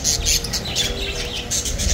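Lovebirds at an outdoor bird market in Baghdad give high, quick chirps and tweets in short bursts over a steady market hum, with no talk nearby.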